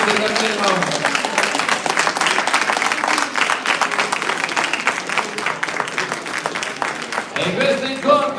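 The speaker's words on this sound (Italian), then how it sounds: "bello questo applauso" Applause at a youth boxing tournament medal ceremony in Padova: a hall crowd claps steadily and densely for several seconds while an announcer's amplified voice talks over it.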